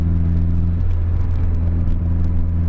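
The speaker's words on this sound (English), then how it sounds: "there is a rattle coming from my exhaust out the" A Nissan 240SX car engine idles with a steady low rumble, a loose metallic rattle buzzing through the exhaust at the rear, close by and continuous.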